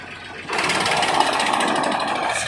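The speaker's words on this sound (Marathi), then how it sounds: "गेला चालू झाला गाईज ट्रॅक्टर" A tractor engine catches and runs, a steady loud droning idle starting about half a second in and holding evenly to the end, with no talking.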